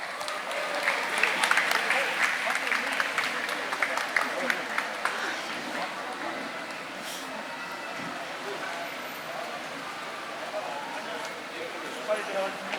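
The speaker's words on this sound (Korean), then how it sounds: "박수 주십시오" Audience at a Sewol ferry ninth-anniversary memorial in Ulsan applauding before a theatre piece: moderate crowd clapping that is strongest early, then thins and fades into a quieter, distant murmur with scattered claps.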